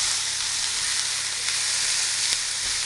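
Chopped red and green bell pepper and zucchini fry in a pan with a constant close sizzle, an even bright hiss that holds steady throughout, with no voices.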